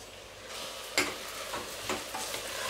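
Rice stirred and tossed through hot fat in a pan for ghee rice, a soft steady sizzle with a few scraping stir strokes, close and moderate in level with no voices.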